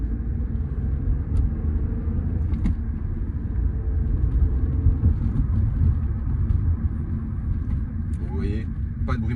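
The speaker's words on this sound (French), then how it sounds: "On accélère un petit peu, on écoute le moteur." A Renault Clio V 1.0 TCe 90 hp petrol engine accelerating gently, a steady, close low rumble and drone that holds through the whole stretch with little change in loudness.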